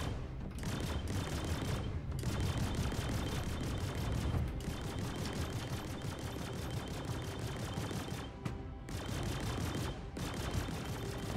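Sustained ballistic gunfire from a fighter ship in a space combat game, with rapid dense bursts of rattling shots running almost continuously and pausing only briefly; loud and close with no voices.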